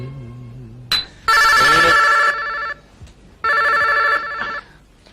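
A telephone rings in two long electronic bursts separated by a pause, loud and close, with a brief voice before the first ring.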